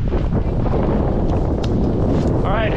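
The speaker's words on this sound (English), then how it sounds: "it's windy up here" Wind roars across a microphone high on a ski mountain, a loud, constant buffeting rush that fills the whole moment.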